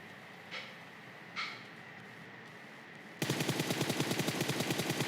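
Rapid automatic gunfire in a video game. Two faint thumps come first over a quiet background, then a loud, steady machine-gun burst with evenly spaced shots runs to the end.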